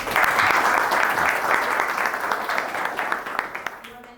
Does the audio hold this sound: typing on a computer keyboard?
no